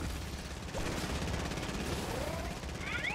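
Dense, continuous Fortnite gunfire rattles throughout in a sustained burst of rapid shots, with a faint whistling sweep near the end.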